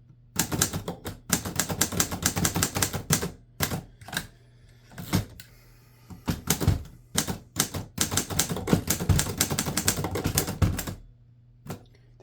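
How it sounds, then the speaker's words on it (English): A 1940s Underwood Universal manual typewriter on a bare wooden desk, typed in quick bursts of sharp key strikes with thuddy low impacts, broken by short pauses and occasional carriage or bell sounds, close and clear. "A lot of the thud you're hearing is this wooden desktop."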